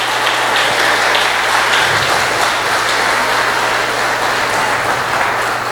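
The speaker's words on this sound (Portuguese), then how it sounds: "Você pode dar uma salva de palmas para o Senhor?" Sustained applause from a church congregation during a Portuguese-language sermon, steady dense clapping filling the whole stretch at an even loud level over a low hum.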